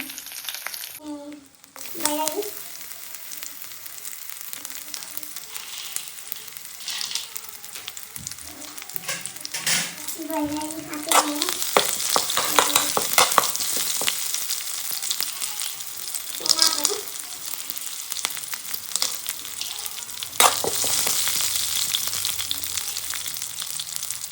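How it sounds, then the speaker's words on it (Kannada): Curry leaves spitting and crackling in hot oil in a pan, a steady loud sizzle with bursts of popping and occasional stirring scrapes throughout. "ಎಣ್ಣೆ ಹಾಕಿದ ಮೇಲೆ ಫಸ್ಟು ಕರಿಬೇವು ಹಾಕಬೇಕು."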